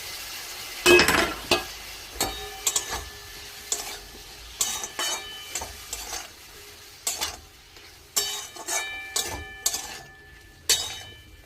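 Mushrooms fry in a pan under repeated stirring. A spatula scrapes and knocks against the pan in uneven bursts over a soft sizzle.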